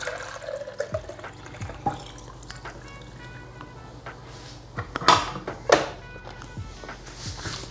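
Water pours and trickles while a Nespresso machine's reservoir is refilled during vinegar descaling, a faint steady flow broken by a few louder splashes and clunks near the end.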